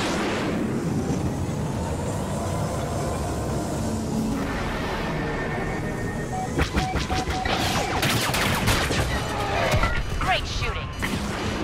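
Blaster gunfire in a Star Wars Battlefront battle: a dense run of rapid shots and impacts that builds in the second half, layered over a steady background din with voices speaking.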